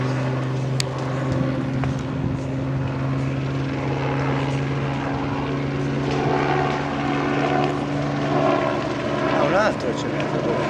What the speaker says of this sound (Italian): Vedi? L'elicottero.